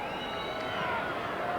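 A large football crowd at the 1993 Grand Final between the Eagles and Norwood roars up in a dense, sustained wall of cheering after a goal, with a commentator's voice over the noise.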